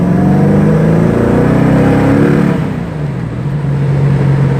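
A tuned MG with a 4.6 engine at wide open throttle, a loud close roar with rising harmonic tones that ease off briefly mid-way before settling into a steady drone.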